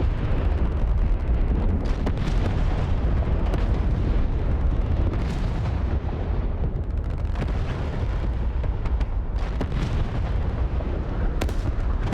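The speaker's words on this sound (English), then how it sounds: "it looks like they're taking mortar fire" Mortar fire in the combat flight simulator DCS World over a Syrian battlefield: a rapid string of heavy, rumbling explosions and blasts, loud and overlapping, with no talk.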